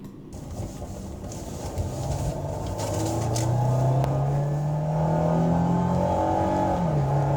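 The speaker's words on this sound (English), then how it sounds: "if you took this Lexus and started it up, and it sounded like this," A Lexus sports car engine starts and revs, a steady loud drone whose pitch climbs through a long rising rev and holds high near the end, heard alone with no talking.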